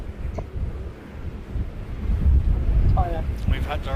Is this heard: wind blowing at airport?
yes